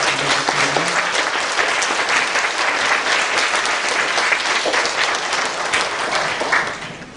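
A church congregation applauds to welcome a visiting missionary, producing dense, loud, continuous clapping that fills the room from start to finish, with a brief voice at the very beginning.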